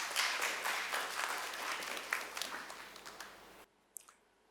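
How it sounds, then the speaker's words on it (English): An audience at the inaugural session of an Odisha art and literature festival breaks into a burst of hearty clapping that gradually thins into scattered claps before cutting off abruptly, leaving a last few isolated claps. "A big round of applause, please."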